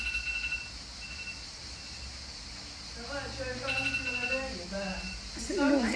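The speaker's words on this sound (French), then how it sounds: "La sonnerie du réveil" A faint, high electronic alarm clock ringtone repeats in short bursts under background noise, with a voice speaking near the end.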